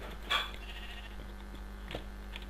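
In the Minecraft video game, a sheep gives one clear bleat near the start, followed later by a fainter bleat, over a steady low game hum.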